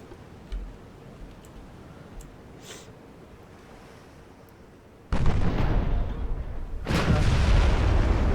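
Heavy 8-inch naval guns from a Civil War-style ironclad battle in Ultimate Admiral Dreadnoughts fire in two loud, booming bursts over a low, surf-like ambience, the second lingering as a dense, rumbling roar.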